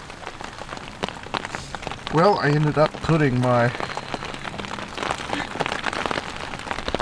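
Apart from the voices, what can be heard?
rain falling on a camp awning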